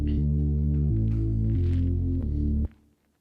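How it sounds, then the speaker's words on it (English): An analog-style synth bass patch on a Roland JD-Xi/JD-XA plays a short sequence of deep, sustained, buzzy notes that change pitch every half second or so, loud and full, then cut off abruptly into silence. "Let's start with an analog sound."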